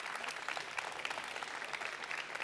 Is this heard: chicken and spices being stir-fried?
no